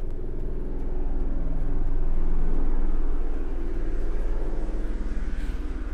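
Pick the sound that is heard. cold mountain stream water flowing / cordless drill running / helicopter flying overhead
helicopter flying overhead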